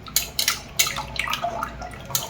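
Thin rice batter with plenty of water drips quickly through a strainer, giving a run of soft irregular liquid drips and patters close by, with no talk.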